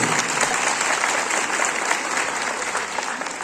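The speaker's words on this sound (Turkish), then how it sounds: "Bir güçlü güçlü alkışla da istiyorum." An audience at an Atatürk commemoration and Youth and Sports Day ceremony in Erbaa gives the district governor loud, dense, sustained applause with no pauses.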